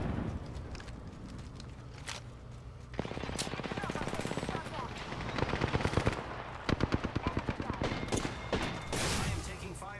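Automatic weapons firing in a multiplayer shooter game, rapid bursts of machine-gun fire, some near and some distant, rattling in quick strings with voices briefly under the shots.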